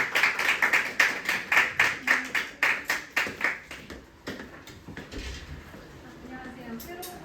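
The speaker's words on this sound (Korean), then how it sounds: "자, 박수로 맞이해 주십시오." An audience at a school exam-strategy information session claps to welcome a speaker, starting as rhythmic, loud unison clapping that breaks into scattered claps and fades, with light talk near the end.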